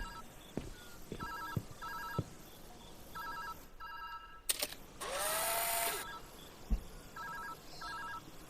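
A phone rings in the Viewfinder video game with short repeated ring bursts, broken midway by a rising tone and a brief noisy burst, after which the rings resume, all fairly quiet.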